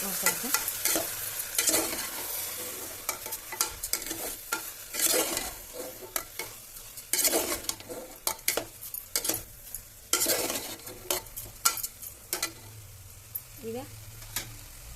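Rice is stirred in a pan for a fenugreek rice dish (menthya bath), with repeated scraping strokes over a low sizzle and a steady background hum.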